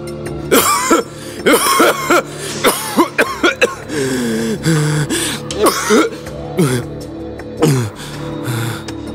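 A man coughs repeatedly in an audio drama, with harsh, throaty bursts in irregular clusters, some with raspy gasps and throat clearing between them, close and loud.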